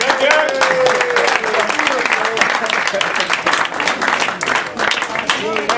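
A crowd at a mixed martial arts press conference claps steadily and loudly, with voices and shouts mixed in over the applause.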